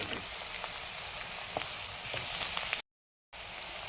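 Chopped ginger and garlic, added alongside onions, sizzle in hot oil in a pan, a steady close crackling hiss with tiny pops, cut off briefly by a moment of silence before resuming.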